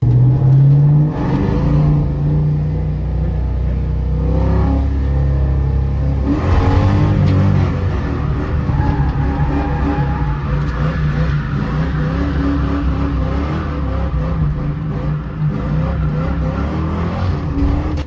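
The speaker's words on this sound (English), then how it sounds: "So here's the first clip of me ever drifting a track or a course with this stockish car." A mostly stock Ford Mustang drifts on a course at a Great Lakes drifting event, its engine revving loudly and continuously, rising and falling through the run with whirring drivetrain noise, close and with no talking.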